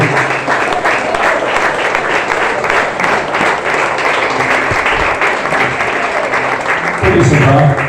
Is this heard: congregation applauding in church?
yes